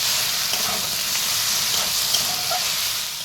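Eggplant pieces drop into a pan of frying ginger and spices, setting off a loud, steady sizzle with faint crackles and stirring sounds throughout.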